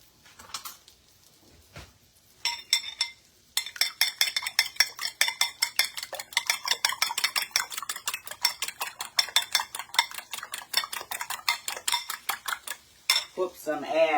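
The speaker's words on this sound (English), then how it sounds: "we're going to beat up our eggs" Eggs are beaten with a utensil in a bowl, a quick steady run of close, sharp clinks and taps against the bowl after a few scattered knocks at the start.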